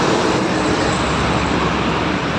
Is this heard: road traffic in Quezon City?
yes